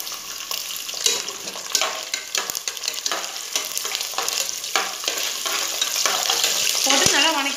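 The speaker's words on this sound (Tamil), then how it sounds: "போட்டு நல்லா வணக்கிடலாம் பாருங்க வெங்காயம் வணங்கிச்சு பாருங்க" Onions sizzle and fry in a hot pan while being sautéed for spinach sambar, a steady crackling hiss with occasional stirring scrapes, close and continuous with no talking.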